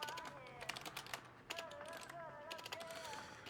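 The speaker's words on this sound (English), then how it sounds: "Let's pull out my keyboard for that." Light keyboard typing while entering a team name in the DiRT 4 racing game, short bursts of quick key taps over steady game music, fairly soft and close.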